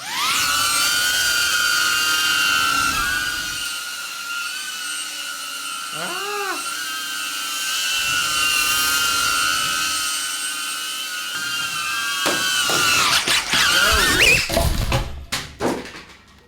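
A DJI Avata FPV drone flies with a steady, high buzzing whine of spinning propellers throughout. The pitch bends and wavers briefly partway through, and the sound grows rougher and louder toward the end.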